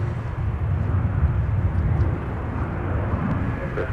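A Delta heavy airliner taxiing at Minneapolis–St. Paul airport gives off a steady low engine rumble and roar, continuous and fairly distant, with no voices over it.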